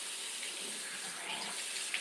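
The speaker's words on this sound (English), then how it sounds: "Then I'm going to wet my face." A bathroom tap runs steadily into a sink while someone wets their face, a continuous broad wash of water flow with no speech.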